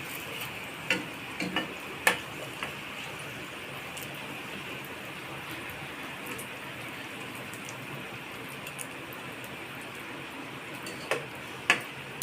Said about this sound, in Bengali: আমি এক একটা লুচি তিন চার মিনিট সময় নিয়ে ভাজবো বন্ধুরা একটু লাল লাল করে ভাজবো